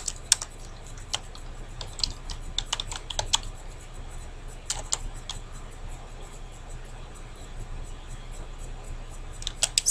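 Typing on a computer keyboard, quiet and close, with irregular clusters of key clicks and short pauses between bursts.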